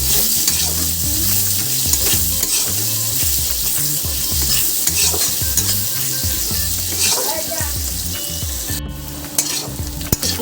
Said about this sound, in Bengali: দুটো মিডিয়াম সাইজের পেঁয়াজটাকে আমি ভালো করে ভেজে নেব